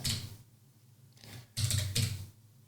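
Computer keys are typed in a few quick bursts, soft clicky taps close by, with short pauses between the groups of keystrokes.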